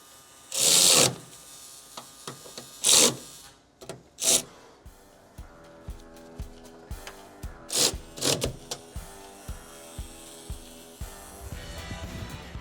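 A socket wrench on a 9/16 socket tightens receiver bolts on a Ford F-150 during an Apex anchor install, with several loud ratcheting bursts followed by a run of quieter, evenly spaced clicks, close by.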